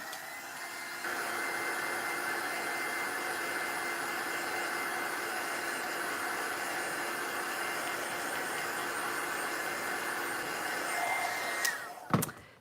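Handheld dryer blowing steadily over a watercolor paper collage, a continuous whooshing roar that switches on, holds for about ten seconds, then cuts off with a few clicks and bumps.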